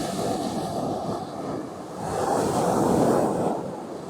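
Sea waves breaking on the beach at Bacton, Norfolk, a broad continuous rush of surf that swells louder midway, mixed with wind buffeting the microphone and no voices.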